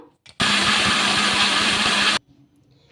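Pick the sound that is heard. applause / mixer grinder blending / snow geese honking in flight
mixer grinder blending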